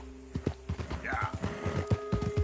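Horse hooves clip-clop in Red Dead Redemption 2 in a steady, close rhythm of repeated sharp beats, with a brief voice sound partway through.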